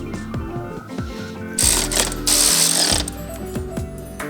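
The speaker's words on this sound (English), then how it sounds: "reinstalling those 3 10mm bolts under the hood, which helps secure the fascia" A hand ratchet tightens 10mm bolts under the hood of a Lexus GX550 during bull bar installation, giving rapid clicking pawl strokes in repeated bursts, close and crisp, with a brief whirring spin in between.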